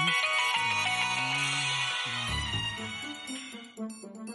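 A mobile phone ringtone plays a loud, melodic electronic tune with shifting tones that fades slightly toward the end, with no talking.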